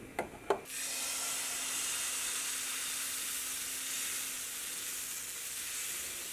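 Wheat flour dosa batter hits a hot pan after two quick knocks, then a steady hiss of sizzling holds evenly to the end.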